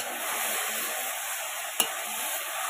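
Flower pickle cooking down on a clay stove, a steady hiss of thick mixture simmering and being stirred, with one sharp scrape or tap partway through, no talk.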